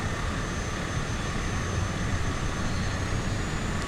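A small aircraft engine in Microsoft Flight Simulator 2020, flying over the Isles of Scilly, gives a steady, loud, continuous drone and whir with no talk.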